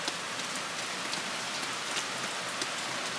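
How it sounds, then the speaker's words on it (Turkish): Heavy rain pours down steadily outdoors, a dense continuous hiss of drops striking surfaces, loud and even throughout with no voices. "Oha nasıl yağıyor?"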